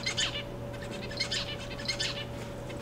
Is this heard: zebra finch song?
yes